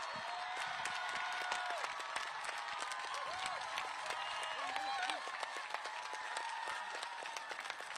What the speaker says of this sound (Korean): 대한민국 제21대 대통령 선거에 출마 선언을 한 한동훈 전 국민의힘 당대표에게 큰 박수를 보내주시기 바랍니다.